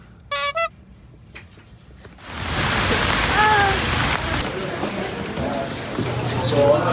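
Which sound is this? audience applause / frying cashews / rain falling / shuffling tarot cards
rain falling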